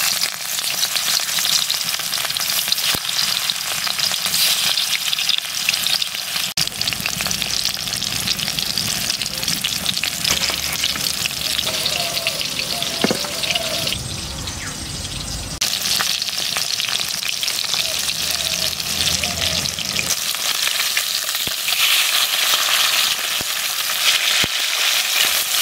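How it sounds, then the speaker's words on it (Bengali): Pieces of rui fish fry in hot oil, giving a loud, continuous, crackling sizzle close by, with occasional clicks and a brief quieter stretch midway before the full sizzle returns. "আমি তেলের মধ্যে এখন মাছগুলো ছেড়ে দিচ্ছি।"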